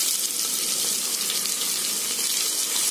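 Curry leaves and cumin sauté in a hot pan for a village-style fenugreek-leaf dal, giving off a close, steady, bright sizzle with no talking.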